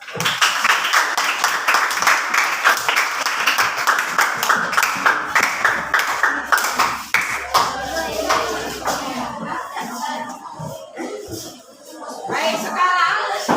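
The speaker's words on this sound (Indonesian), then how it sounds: "Mereka aplaus untuk kelompok 1." Classroom applause for a student group, a burst of clapping from many hands rising and fading over several seconds, with children's voices chattering underneath and after.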